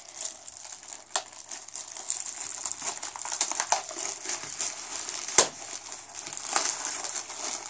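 A child opens the plastic packaging of a children's magazine, a close series of crinkles and crackles with irregular sharp snaps over several seconds.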